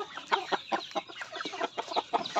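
Two mother hens with their chicks cluck close by in a quick, uneven run of short, soft calls mixed with higher peeps, with no one speaking.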